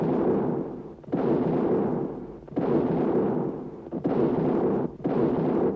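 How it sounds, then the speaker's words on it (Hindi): Cannons fire a 21-gun salute in a dramatized historical scene, with four heavy booms spaced about a second or more apart, each followed by a long rumbling decay. "21 तोपों की सलामी दी।"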